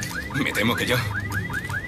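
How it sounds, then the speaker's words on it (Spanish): A car alarm in a quiet small-town setting sounds a rapid series of repeated rising electronic chirps, fairly loud, while someone speaks over it. "¿Quién pone una alarma de coche en Parker Falls?"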